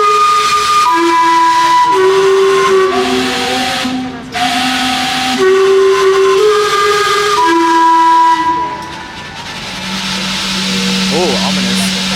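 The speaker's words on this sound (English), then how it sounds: "get ready for the coolest clock ever. The Gastown Steam Clock." Gastown Steam Clock in Vancouver sounding its steam whistles, loud sustained tones stepping through a melody over hissing vented steam, with pauses between phrases.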